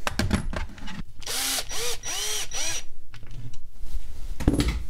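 A cordless drill driver drives screws into wooden wall cleats, with several close, loud bursts of whirring motor and rising pitch as each screw runs in, separated by brief pauses and handling clatter.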